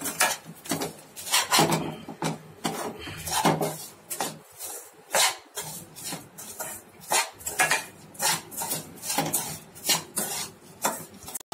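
A spoon scrapes and clanks repeatedly against a pan while gond, almonds and sugar are stirred together, irregular loud metallic knocks and scrapes close up, with no talk.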